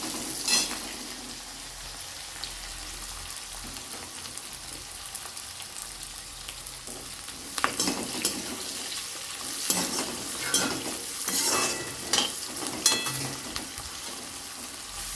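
Sliced onions and brinjal sautéing in oil in a pan, a soft continuous sizzle broken by bursts of stirring and scraping that grow busier toward the end.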